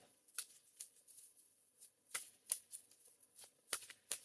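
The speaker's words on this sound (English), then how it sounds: "let's shuffle the angel cards for Butterfly" Angel cards being shuffled by hand in a quiet room, a run of soft papery riffles and flicks in irregular bursts, close and fairly faint, with no talking.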